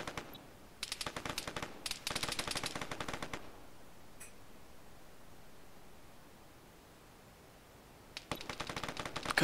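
Distant carbine gunfire in a capture-the-flag video game match, heard as two bursts of rapid shots at the start and again near the end, separated by quieter ambient game noise with no talk.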